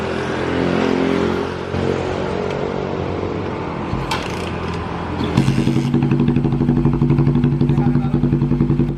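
A custom chopper motorcycle engine runs close by, first idling roughly with some clatter, then settling into a loud, steady, rapidly pulsing idle with strong low harmonics.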